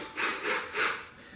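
A wooden dowel being worked into a pre-drilled hole while installing a flagpole solar light, giving three rhythmic, close rasping rubs of wood on wood, each about a quarter second long.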